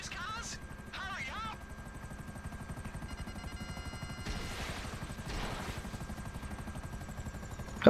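A helicopter in GTA V Online thrums with a steady rotor chop close by, continuous throughout, while players talk over it and game beeps sound.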